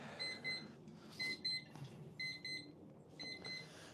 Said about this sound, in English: That's my timer to do the next set.